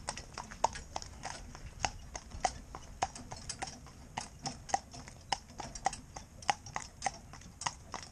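An older cob horse walks with hooves clip-clopping in a steady, even rhythm, each footfall crisp and moderately close, continuing alone without talk.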